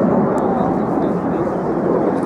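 Red Arrows Hawk jets flying an airshow display, a loud steady jet roar filling the air without a break, heard briefly and up close to the crowd.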